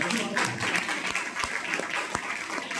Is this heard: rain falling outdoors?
no